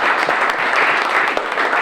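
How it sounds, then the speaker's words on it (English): An audience at a networking talk bursts into a short, dense round of applause, loud and close, with no clear voices over it. "Give him a round of applause."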